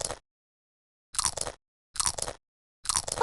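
A cartoon parrot eating crackers in a Peppa Pig preschool video game: four short, crisp crunching bursts spaced about a second apart, separated by silence.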